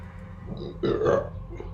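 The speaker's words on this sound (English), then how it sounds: "spicy burp" A single short, guttural burp, close and fairly loud, lasting under a second against quiet room noise.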